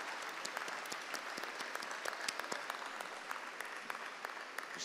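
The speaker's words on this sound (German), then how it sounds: "Ein Applaus für" Spectators at a horse riding clinic applaud the rider and horse, producing fairly soft, distant clapping from a modest crowd with individual claps standing out throughout.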